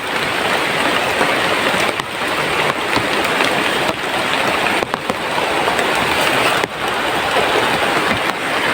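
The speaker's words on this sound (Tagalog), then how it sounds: "Sabi lakas ng ulan." Heavy rain pours down steadily and loudly, a dense continuous roar with a few brief dips in intensity.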